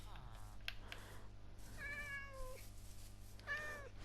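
Minecraft cat meowing in-game, a few short tonal meows spaced across a few seconds over a steady low hum, with faint background speech.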